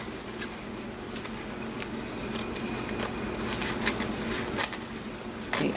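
Scissors trim the paper edges of a glued-on journal page, giving a close, crisp series of irregular snips and rustles over a soft background hiss.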